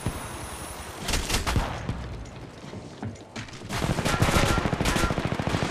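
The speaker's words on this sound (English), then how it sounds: "The enemies are shooting at me." Enemy gunfire in the mobile battle-royale shooter Apex Legends Mobile: loud bursts of rapid automatic shots, a short volley early on and a longer sustained rattle toward the end, with no talking.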